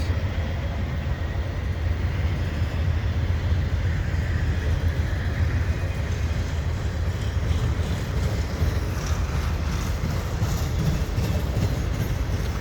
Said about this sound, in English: Three trains in the snow.